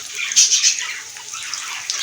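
Water pours into a cooking pot of fried onions and whole spices for a duck curry, a steady, close splashing hiss lasting a couple of seconds with no talk.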